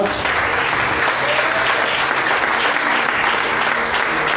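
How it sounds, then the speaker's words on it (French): Sustained applause from a church congregation, steady dense clapping filling the whole stretch, loud and close with no pause. "Est-ce qu'on peut acclamer pour le Seigneur?"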